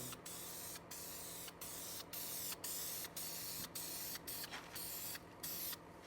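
A spray gun lays a heavier second coat of paint on a Chevy Impala quarter panel, short hissing bursts with brief gaps, close and steady.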